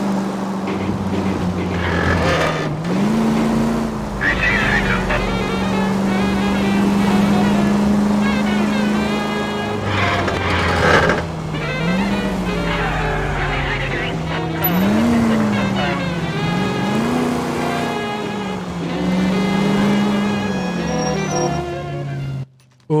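A car in the L.A. Noire video game driving with a steady engine drone that rises and falls through gear changes, with braking and a tire squeal, loud and continuous under background game music.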